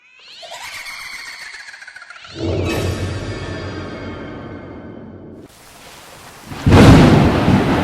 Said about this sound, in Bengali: বাইরে অঝোরে বৃষ্টি হচ্ছে।